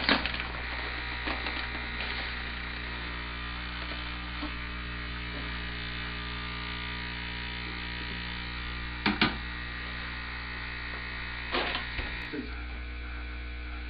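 An aeration pump runs steadily to brew three gallons of water with a third of a cup of compost tea mix, giving a constant electric hum and buzz with a few faint clicks and handling noises.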